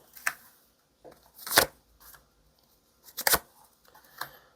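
Tarot cards being shuffled and drawn close up, with a few short riffling, papery bursts separated by quiet pauses and no talk.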